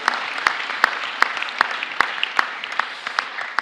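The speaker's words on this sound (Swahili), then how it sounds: "Tupigiani Bwana makofi." A church congregation at an ordination service in Ruiru claps in a steady, rhythmic beat, sharp hand claps repeating roughly every half second over a dense wash of applause, fairly loud and close, with no talk over it.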